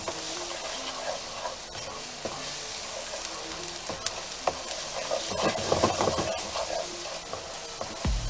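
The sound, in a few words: onions sizzling with sausage in a pan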